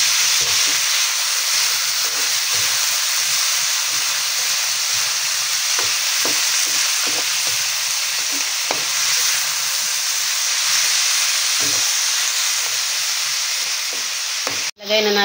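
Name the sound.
sautéing squid and shrimp in a pan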